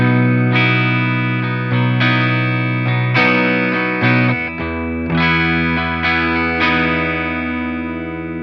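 Electric guitar playing chords and single notes with a clean, ringing amp tone from a pedalboard plugin, steady and fairly loud, each strum sustaining into the next.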